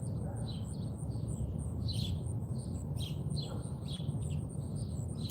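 Small birds chirp in a backyard near a sparrow nest tucked beside a house chimney, with repeated light tweets over a steady low outdoor rumble.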